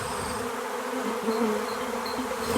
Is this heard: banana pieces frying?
no